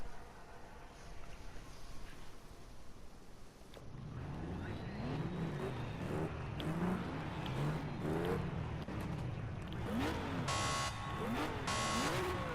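A video-game car drives in a racing game, its engine revving and shifting in rising and falling sweeps after a quieter opening, with brief bursts of hiss and clatter near the end.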